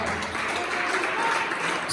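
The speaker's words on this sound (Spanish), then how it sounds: "Den un aplauso al Señor, hermano." A Pentecostal church congregation applauds during a sermon, a continuous moderately loud burst of many hands clapping together.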